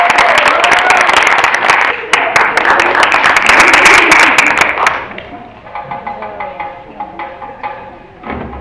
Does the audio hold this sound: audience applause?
yes